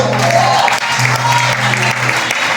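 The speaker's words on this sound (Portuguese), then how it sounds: "Uma salva de palmas por ele." Church congregation applauding together during a sermon, a loud, steady wash of clapping that fills the room from start to finish, with a low sustained tone underneath.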